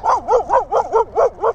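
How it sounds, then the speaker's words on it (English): A dog barking in a quick series of about seven yips, steady and evenly spaced, fairly close, heard where motorcycle riders have stopped. "Where did this dog come from"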